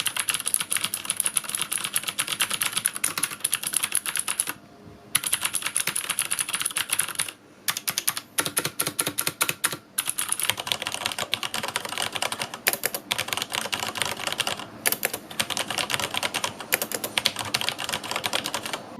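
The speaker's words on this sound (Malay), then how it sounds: "Jadi jom kita dengar bunyi kedua-dua switch ini." Rapid typing clatters on a ThundeRobot KG5104 mechanical keyboard and a Corsair K63 wireless with Cherry MX Red switches, dense continuous keystrokes with a few brief pauses, close and alone.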